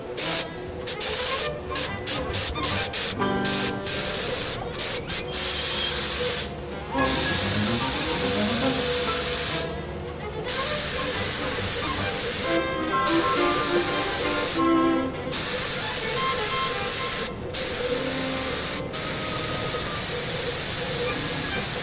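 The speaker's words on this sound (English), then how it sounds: "Now he's going to spray the front" Bursts of loud, hissing spray from a spray gun applying polyurethane, repeated in short and longer blasts separated by brief pauses.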